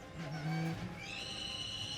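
A high, squealing screech of squeaky car brakes rises and holds steady for a couple of seconds, shrill and piercing, close by.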